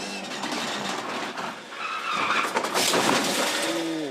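Supercars race car skidding across a track and crashing, a loud squealing, scraping burst with rising engine roar, close and continuous over a few seconds.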